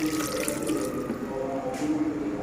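About half a litre of water pours into a cooking pot for chicken shami kabab, a steady splashing stream close by, running continuously with no talk.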